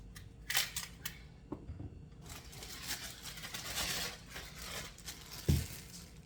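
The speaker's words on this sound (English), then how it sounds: "I'm going to chop some celery up" A knife chopping celery on a cutting board, heard as a few sharp close taps followed by a denser stretch of crisp cutting sounds and one heavier thunk near the end, with no talking.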